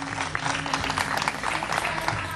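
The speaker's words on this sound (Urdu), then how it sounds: "بہت ساری تالیاں ڈاکٹر معیز صاحب کے لیے" A studio audience on a Pakistani TV morning show claps steadily and densely for the whole stretch, a loud, even wash of applause with no voices on top.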